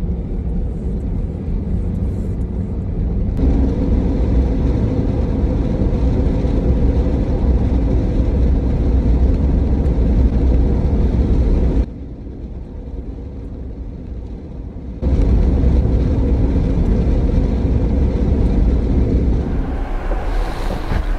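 A Jeep Gladiator on Toyo 37x13.5x17 tires and AEV wheels, with no lift, drives a dirt road. A loud, steady rumble of engine and tire noise is heavy with wind buffeting, briefly drops quieter midway, then returns.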